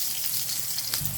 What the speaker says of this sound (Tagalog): igisa natin yung lamas, ahos at bumbay